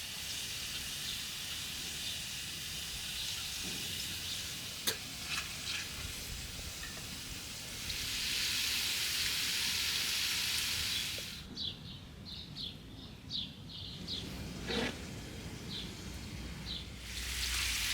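Beef ribs fry in a pan with a continuous hissing sizzle that surges louder midway, followed by scattered clinks and scrapes of cookware; no speech.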